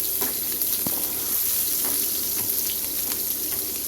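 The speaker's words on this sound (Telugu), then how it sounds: "ఆయిల్ హీట్ అయిన తర్వాత ఒక పెద్ద ఉల్లిపాయ చిన్న ముక్కలుగా కట్ చేసుకొని వేయించుకోవాలి" Chopped onion frying in hot oil in a kadai, a dense continuous crackling sizzle, steady and close, with an occasional faint clink.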